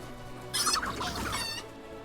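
A chicken in a fantasy battle video game lets out a burst of close, loud clucking that rises and then trails off, heard alone.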